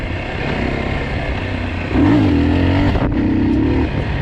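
A Geon X-Road Light 250 (2023) motorcycle engine hums along, then revs up sharply and holds a higher, louder whine before easing off briefly and picking up again.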